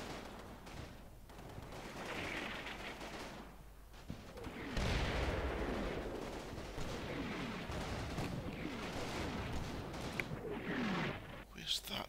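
Battle sounds from the video game Combat Mission Battle for Normandy, with rumbling distant gunfire and artillery rolling on under a continuous low din at moderate volume.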